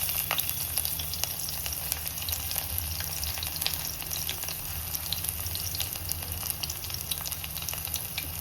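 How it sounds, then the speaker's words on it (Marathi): Garlic sizzles steadily in hot oil as a tempering for a green Bombay duck curry, a dense, continuous frying hiss with faint crackles, close and loud throughout, with no talking. "मी आता हे फोडणी करता हा लसूण टाकते"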